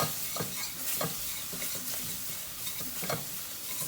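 Tomato paste sizzles and fries steadily in a pan with flour for soup, while a spoon stirs it in soft repeated scrapes, close and fairly quiet.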